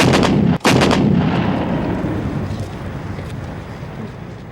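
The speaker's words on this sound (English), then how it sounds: "In one crucial assault, 100 guns concentrated their fire at one point, point 5140 in Tololing." Heavy artillery fires a concentrated barrage during the Kargil War at Tololing: loud, booming blasts open the passage, then a long rolling rumble fades slowly across the mountains.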